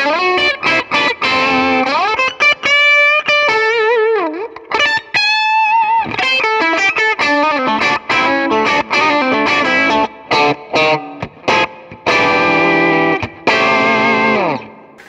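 Stratocaster electric guitar on the bridge pickup with the tone knob backed off to about 6, played through distortion and chorus effects; a continuous run of loud, fat, sustained notes and chords with brief gaps, no voices.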